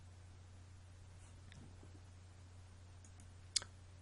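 A single crisp computer mouse click, close and clear, comes near the end after a few faint ticks, over a quiet room with a steady low electrical hum.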